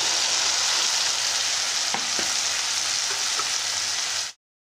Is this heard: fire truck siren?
no